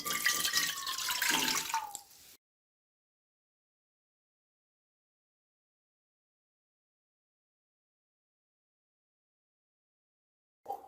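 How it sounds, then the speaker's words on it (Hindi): Water pours into a kadai for a chicken hot and sour soup, a steady splashing stream for about two seconds, then silence with a brief faint sound at the very end. "कढ़ाई के अंदर मैं 5 गिलास पानी की ऐड करूंगी।"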